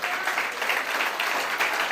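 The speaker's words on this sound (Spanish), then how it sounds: "Denle un aplauso a Jesús en esta hora." A church congregation applauds during a sermon, giving a brief burst of dense, steady clapping from many hands that fills the room with no voice over it.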